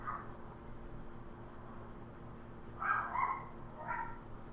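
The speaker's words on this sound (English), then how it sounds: "Dogs are barking at somebody up there." Dogs barking at someone outside, heard as two or three short bursts of barks near the end over a quiet indoor hum, fairly distant and muffled.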